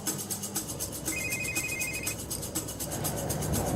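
A telephone rings in a trucking and rail freight setting, a repeated electronic ringtone pulsing steadily and fairly loud over background hum, with no talk.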